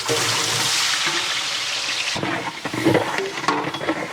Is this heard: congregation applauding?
no